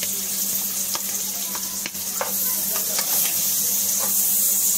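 Chopped onion and bay leaf sizzle and crackle steadily in melted butter in a pan while chicken shahi is being cooked, with occasional sharp pops and scraping stirs over a constant close frying hiss and a low hum; no one speaks.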